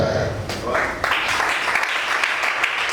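A church congregation claps and cheers in response to a sermon, a sustained wash of applause that swells after the first second and stays dense and fairly loud throughout.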